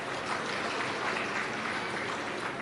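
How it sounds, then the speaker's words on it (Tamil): An audience at a book fair talk claps together in a dense, steady wash of applause that holds evenly throughout, with no speech over it. "உண்மையிலே புத்தகம் வாங்கினவங்களுக்கு ஒரு பெரிய கைத்தட்டல் கொடுங்க"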